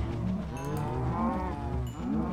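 A Minecraft cow moos continuously and loudly for about two seconds, a low drawn-out bovine call with no talking over it.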